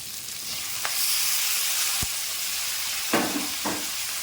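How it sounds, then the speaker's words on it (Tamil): Steady sizzling of drumstick pieces and tomato frying in a pan, with a few soft scrapes and stirring knocks over the continuous hiss; no talking. "முருங்கைக்காய் வதக்கி வதங்கிட்டு இருக்குது"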